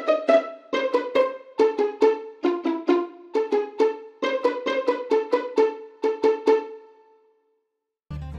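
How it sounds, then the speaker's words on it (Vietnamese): A sampled violin voice with the strings scratched or plucked plays a quick melodic run of short, bright, decaying notes for several seconds, then stops before a brief low thump. "sẽ gãi ở trên cái dây để cho tạo ra cái tiếng này."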